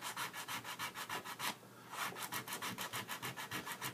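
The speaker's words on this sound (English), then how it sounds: "We want to make sure when we trim that we trim off all the raised area" Raised epoxy wood repair on a cabinet being trimmed flat, a rapid steady back-and-forth scraping rub in quick even strokes with a brief pause midway, close and alone.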